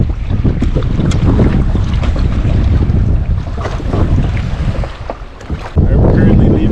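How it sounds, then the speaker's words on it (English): Strong wind buffets the microphone while kayaking on choppy Saguaro Lake in Arizona, a loud continuous roar with water sloshing against the hull. "It's super windy."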